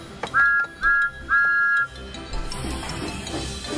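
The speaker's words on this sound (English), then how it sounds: "Thomas waited for his wonky whistle to be fixed" A wonky toy Thomas the Tank Engine train whistle sounds three short, high, steady toots in a row, close and loud, followed by faint clattering and background noise.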